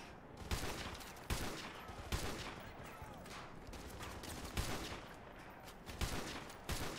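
Bursts of gunfire in Call of Duty: Modern Warfare 2 Remastered crack out repeatedly, several sharp shots spaced irregularly over a constant noisy background.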